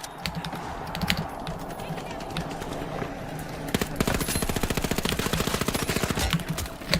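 Rapid automatic gunfire from a gun in a video game, loud and close, with steady bursts of shots running through the clip and growing denser in the second half.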